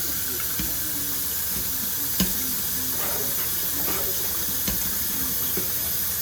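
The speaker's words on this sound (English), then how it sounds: "We're gonna rinse them off well with cold water." Cold water runs steadily from a kitchen tap over fresh mushrooms being rinsed, a constant close hiss and splash with faint clicks and no talking.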